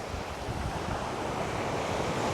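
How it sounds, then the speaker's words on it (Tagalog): Strong ocean surf pounds a beach near cliffs on Bantayan Island, Cebu, a steady loud roar of breaking waves mixed with wind buffeting the microphone, with no voices. "Medyo malakas lang yung alon."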